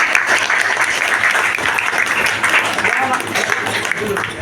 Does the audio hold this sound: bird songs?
no